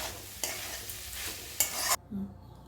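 Beans and potatoes fry in a pan while a spatula scrapes and stirs them in a few loud bursts over a steady sizzle, then the noise drops off sharply near the end.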